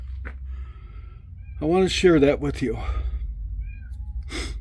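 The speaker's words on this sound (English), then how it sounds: "Now I got to go tend to this cat." A house cat lets out a couple of clear, close meows mid-clip, with a brief short call near the start and a soft breathy sound near the end, in an otherwise quiet room.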